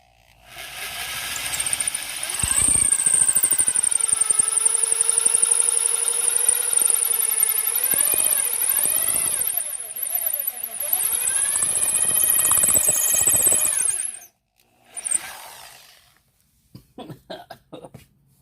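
A high-pitched drill whines loudly as it bores into bone during a knife build, pitch dipping and rising under load, then stopping with a few short bursts after.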